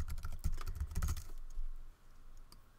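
Quick, light keystrokes on a computer keyboard as an email address is typed, a close flurry of clicks that thins out into sparse taps near the end.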